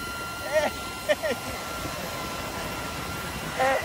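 DJI Neo drone flying at a beach, a steady whirring propeller hum running throughout, with voices shouting and exclaiming briefly over it.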